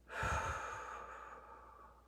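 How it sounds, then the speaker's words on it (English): A single deep breath is released in a soft, close exhale that starts with a brief rush of air and then fades away gradually, with no talking. "Take a nice deep breath and release it."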